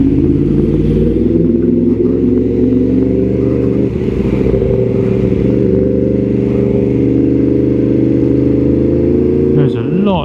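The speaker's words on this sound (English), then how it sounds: "I'm not sure how much of the exhaust sound you're picking up." A Yamaha MT-10 SP motorcycle fitted with an Austin Racing exhaust rides along, its engine giving a loud steady rumbling drone. A rider talks over it.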